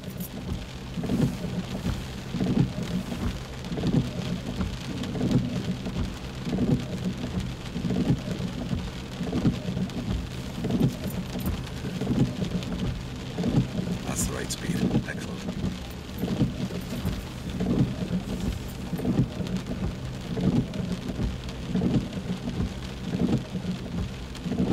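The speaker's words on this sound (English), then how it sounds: "The rain makes it difficult to hear what's going on as well" Heavy rain pours steadily throughout during a car driving lesson, a dense, continuous hiss with low rumbling underneath, close and loud with no talking.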